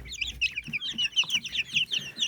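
Chickens clucking busily up close, a dense chatter of short overlapping clucks and chirps with no pause.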